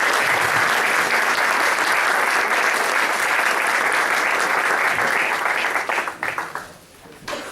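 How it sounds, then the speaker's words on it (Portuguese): A church congregation at a morning worship service bursts into loud, sustained applause that fills the room for several seconds before tapering off. "Você pode aplaudir o Senhor nesta manhã?"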